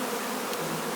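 Honey bees buzz in a dense, steady swarm drone during a hive removal in rural Jamaica, loud and close with no voices.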